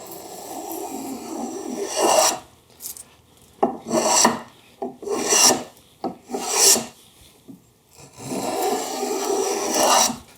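A hand tool cuts a variable chamfer along the outside curve of a wooden piece, giving a series of rasping, scraping strokes in uneven bursts with short pauses between them, close and loud.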